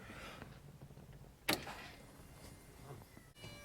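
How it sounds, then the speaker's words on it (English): Fuel pump on a 1950 Cadillac hearse priming, a close mechanical whir and buzz with a brief sharp clack midway, running alone without speech. "that's the sound of the pump priming"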